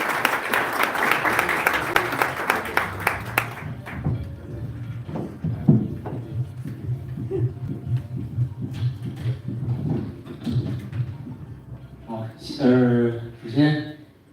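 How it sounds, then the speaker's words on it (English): Audience applause at a corporate partnership event, a lively burst of clapping for a few seconds that thins to scattered claps and murmuring, followed by a speaker beginning to talk. "Round of applause."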